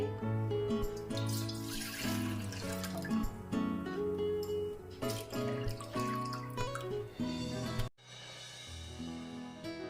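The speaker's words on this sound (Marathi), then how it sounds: "पातेल्यामध्ये दोन तांब्या पाणी वतणार आहे" Water poured from a small metal vessel into a cooking pot on the stove splashes and trickles steadily for several seconds over background music, then stops abruptly.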